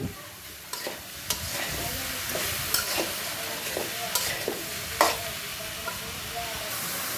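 Chopped bottle gourd with turmeric and salt frying in a pan, a constant hiss of sizzling with repeated scraping and clacking of a stirring utensil up close.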